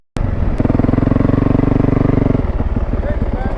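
A two-stroke dirt bike engine runs close by with a fast, buzzing pulse that holds steady for a couple of seconds and then drops to a rougher idle, while people talk over it.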